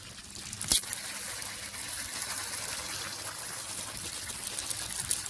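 Irrigation water runs steadily in a community garden, a continuous close trickle and gush of flowing water with a brief sharp knock near the start.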